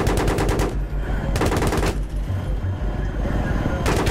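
Machine-gun fire in the video game Battlefield 3 comes in loud, close rapid bursts separated by short pauses, with a low rumble of battle noise between volleys.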